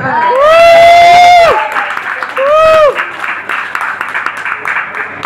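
Applause from an audience at a Hindi shayari recital: a dense wash of clapping rises after two sung or drawn-out vocal phrases and keeps going steadily at moderate loudness.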